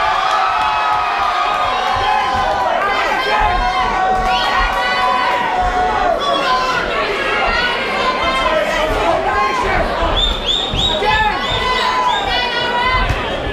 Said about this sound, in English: Cheer for the blue! Cheer for the red!